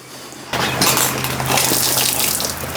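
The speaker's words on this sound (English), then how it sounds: "All the water come out the back of it." Water gushes out of the back of a Harbor Freight flashlight during an extreme durability test, a sudden loud rushing splash that starts abruptly and pours steadily without any talk.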